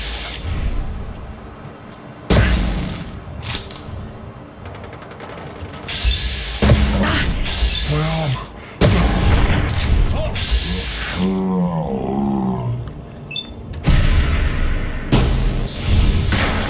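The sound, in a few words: gunshots from the video game Fallout London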